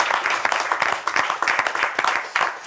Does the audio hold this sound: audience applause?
yes